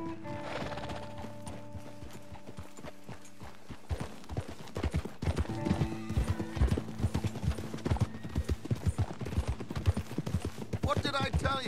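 Horse hooves clip-clopping in Red Dead Redemption 2, starting quietly and then becoming a steady, close rhythmic trot of sharp hoof strikes over a low musical drone, with a brief whinny near the end.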